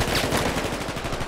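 Rapid automatic gunfire in Battlefield Hardline, a loud, steady stream of closely spaced shots filling the whole brief moment, with no talk.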